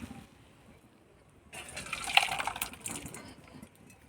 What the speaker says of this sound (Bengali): জলটা ঢেলে ছেঁকে নেব পেতেতে